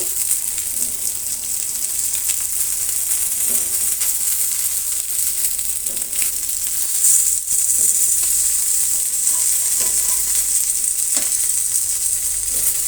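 Fish (Indian pomfret-style rawas/raghu fish) coated in raw masala shallow-frying in a pan, a steady dense sizzle with small pops and crackles running continuously and fairly close, with no talk over it.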